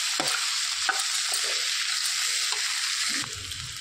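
Spices, coriander and cumin powder, get stirred into a mixed vegetable curry frying in a pan, with a steady loud sizzle broken by spatula scrapes at irregular intervals.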